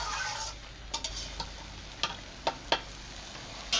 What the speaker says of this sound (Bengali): সবজিগুলো আমরা আগে রান্না করে নেব।